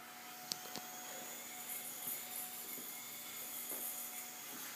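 Parkzone Mini Vapor RC plane flying in a small indoor space, its tiny motor and propeller giving a faint, steady whine with a few light taps and knocks in the room.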